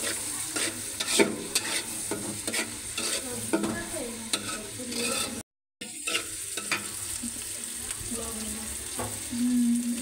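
Tomatoes being stirred and fried in a pan for a vegetable curry: steady sizzling with repeated scraping strokes of a spoon, near and alone, with a brief dropout midway.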